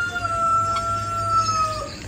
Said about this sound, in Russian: Крайне забавные существа, петухи.